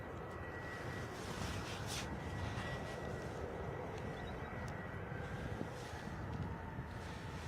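Airliner departing in a crosswind at Bristol Airport, heard as a faint, distant, steady broadband jet roar mixed with wind noise on the microphone. No one speaks.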